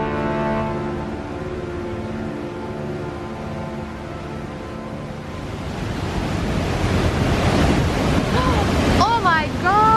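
River water rushes through Tolmin Gorge in Slovenia, a loud, steady broadband roar that swells in the second half, with wind buffeting the microphone and a brief voice near the end.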